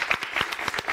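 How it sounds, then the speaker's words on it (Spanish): An audience at a political debate claps in a brief, fairly close burst of applause with distinct, rapid hand strikes, and no one speaks over it. "Un aplauso,"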